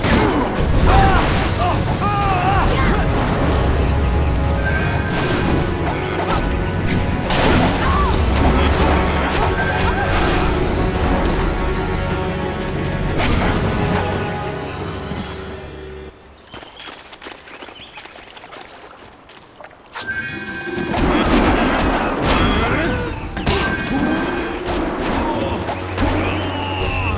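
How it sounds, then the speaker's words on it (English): Cannon fire in the video game Jade Empire booms and crashes amid a dense, busy mix of impacts and music, briefly dropping to a quieter stretch before the heavy barrage resumes, with voices speaking over it. "Cannon fire, look out!"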